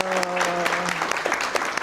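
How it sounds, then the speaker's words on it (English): Audience applause for a speaker after a talk on identity, culture and belonging: a short burst of crowd clapping, fairly close and steady, with a brief voice or tone at the start. "Can we give her a round of applause?"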